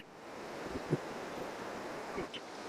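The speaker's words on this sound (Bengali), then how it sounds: "আর তার সঙ্গে উত্তাল সমুদ্রের ঢেউ" Rough sea waves at Tajpur beach, a steady low wash of surf mixed with wind buffeting the microphone, with a couple of brief swells standing out, no voices.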